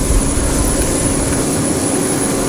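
Steady, loud aircraft engine roar in Microsoft Flight Simulator 2020, one engine left running on a large plane, a dense unbroken drone with no talk over it.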